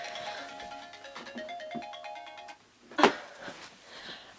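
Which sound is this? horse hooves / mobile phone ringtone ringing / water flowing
mobile phone ringtone ringing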